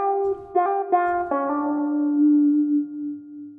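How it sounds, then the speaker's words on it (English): Wah-effected electric guitar layered into a vintage-style music sample: a few plucked notes with shifting, vowel-like tone sweeps, ending on a long sustained note that slowly fades, clear and upfront with no talking. "another small detail right here is the wah guitar."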